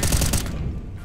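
A short burst of rapid gunfire in Counter-Strike: Global Offensive, loud and close at first, then cutting off and fading quickly.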